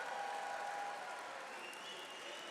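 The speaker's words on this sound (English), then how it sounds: "I promised you there would be a moment for truly thunderous applause" A university convocation audience applauds steadily, a dense wash of clapping with no pauses, heard from inside a large hall during a graduation ceremony.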